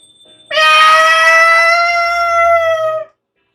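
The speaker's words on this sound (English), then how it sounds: "It's a cat." A cat in the game Coffee Talk lets out one long, loud, drawn-out meow, clear and close, lasting about two and a half seconds, then silence.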